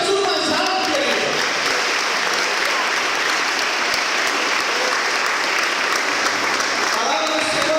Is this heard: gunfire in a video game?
no